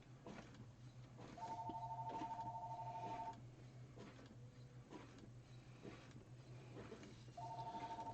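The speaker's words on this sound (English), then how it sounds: "And we have a phone call." A telephone rings with an incoming call in a room where a Brother MFC-J4620DW printer is running: two steady electronic ring bursts separated by a pause, over a constant low machine hum.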